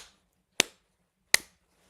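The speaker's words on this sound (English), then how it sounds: "Clap your hands 3 times." A person's hands clap sharply, two crisp, isolated claps roughly three quarters of a second apart, each ringing briefly in quiet surroundings.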